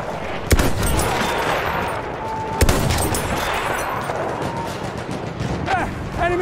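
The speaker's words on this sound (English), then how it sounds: "Enemy machine gun over there." Machine gun fire in the World War I shooter Battlefield 1, heard as a rough, continuous battlefield rattle with a couple of sharper cracks standing out. The firing sounds moderately distant, and a faint voice calls out near the end.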